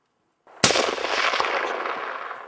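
A single loud, close rifle shot during a bull moose hunt, a sharp crack followed by a long, rumbling echo that fades over about two seconds, with no voices.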